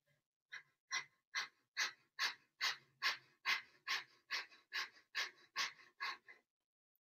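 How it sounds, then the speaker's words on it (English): Slow, deep breathing during a guided relaxation exercise, about a dozen long, airy exhales in a steady rhythm, each swelling and fading, close and fairly quiet, with no talking. "Just let that exhale keep going."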